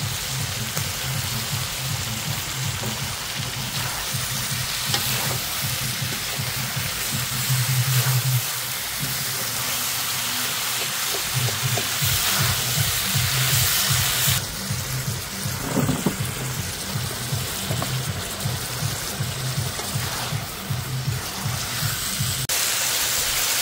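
Cauliflower going into chicken cooking in a pan, village style, a constant loud sizzle and crackle with bursts of stirring clatter, and no voices.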